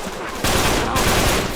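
Video game gunfire, a sudden dense crackle of rapid shots that starts abruptly and keeps going steadily without a break.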